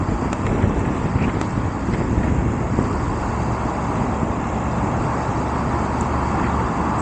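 A 2023 BMW F 850 GS Trophy motorcycle rides in fourth gear at about 30 mph on a town road, its steady engine drone mixed with heavy wind rush on the microphone, constant and loud throughout.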